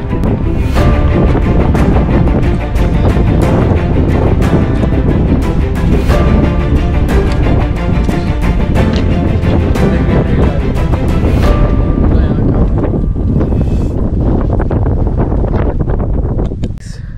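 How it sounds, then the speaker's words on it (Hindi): Strong, steady wind buffets the microphone on a mountain fort summit in Maharashtra's Sahyadri range, a loud continuous roar for most of the clip that eases slightly near the end. "हवा चल रही है तूफान आ गया मेरी टोपी ना उड़ जाए"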